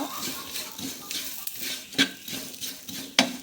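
Onions stirred in a dry pan with no oil over a medium flame, a spoon scraping and clinking against the metal in an uneven rhythm with faint sizzling, close and fairly quiet.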